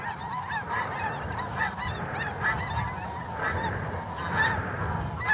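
A flock of snow geese honking in flight during a spring hunt, many overlapping calls from near and far forming a constant clamor over low wind rumble.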